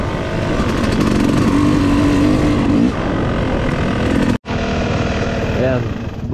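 Motorcycle engine running loud and steady at close range, entering a rocky, slippery trail during a hard enduro race, with a brief dropout partway through and shifting engine pitch afterward.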